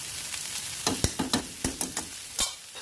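Vegetables sizzling in ghee in a pan for vegetable pulao, with a steady frying hiss broken by a series of scraping stirs of a spoon against the pan, close and fairly quiet.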